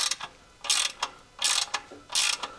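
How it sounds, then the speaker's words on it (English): A ratchet clicks in three short, loud bursts while torquing ARP pressure plate bolts on a Nissan 370Z clutch, close and with no speech. "Finally, everything is all torqued up."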